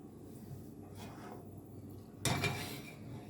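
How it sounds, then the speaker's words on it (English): A second skillet is set on a stove while making ground beef quesadillas: a quiet metallic clunk and rattle of cookware, close and brief, over a faint background hum with no talking. "We're going to bring in another skillet."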